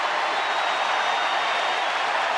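A baseball crowd cheers on pitcher Koji Uehara with a steady, broad roar from many voices and no clear break or rise across its short span.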